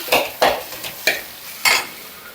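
Fried egg stirred for egg rice in an oiled pan: four distinct scraping stir strokes, evenly spaced and close, over a faint sizzle with no talk.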